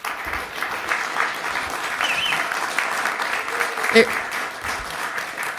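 Sustained clapping from attendees at a town Ways and Means budget meeting after a unanimous vote, steady and moderately loud, with a brief voice cutting through midway.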